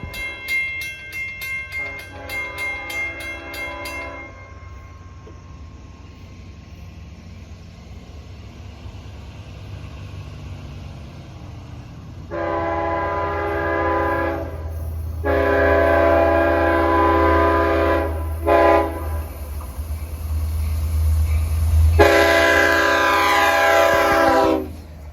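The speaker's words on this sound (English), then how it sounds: "Very superior K5LL horn." A Long Island Rail Road train rolls past on the Central/Montauk branch with a steady rumble, sounding its K5LL horn in several loud, sustained blasts that grow closer and stronger.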